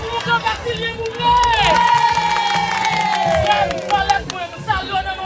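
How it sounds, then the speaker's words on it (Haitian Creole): A crowd cheers and shouts at a Gede ceremony for Manbo Ti Yayo, with loud, sustained massed voices and high, sliding calls rising over the din for several seconds. "Faites bravo pour mon grand Vassilier pour moi"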